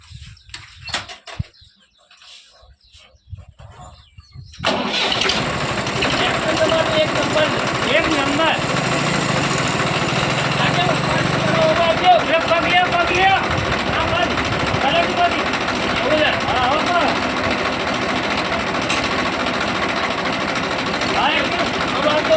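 A tractor engine catches after a quiet start and then runs steadily, a loud continuous drone close by, with people talking over it.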